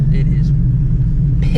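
A 900-horsepower Shelby GT350 with a damaged clutch idles as it rolls out of a garage, giving a steady, loud low engine rumble throughout, with brief higher noises near the start and end.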